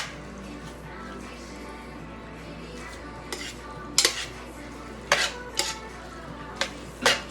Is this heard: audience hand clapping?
no